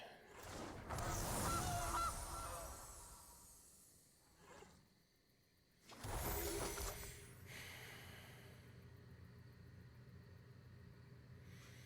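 Goose card sound effect in the digital card game Magic: The Gathering Arena, a loud honking burst near the start and another around six seconds, with quieter game ambience between them.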